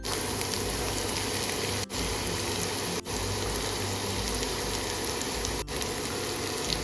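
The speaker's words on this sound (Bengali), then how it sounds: "খুব ভালো করে এবার সমস্ত জিনিসগুলো ভাজা ভাজা করে নেব" Potatoes and bottle gourd peel fry in a pan with onion, giving a steady, dense sizzling hiss that runs the whole time with three brief dips, and no talking.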